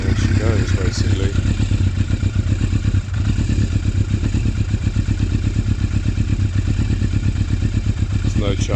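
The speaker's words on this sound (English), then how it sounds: "if you want to hear how it sounds, there's the ignition" A 1996 Yamaha Thundercat motorcycle engine, cold and running without choke, idles close and loud with a rapid, even mechanical pulse and a slight clatter, steady throughout, with a voice briefly heard over it.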